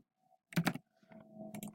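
A few quick keystrokes clatter on a computer keyboard while entering figures for a statistics lab problem, first a tight cluster of clicks and then a softer run of taps, close and alone.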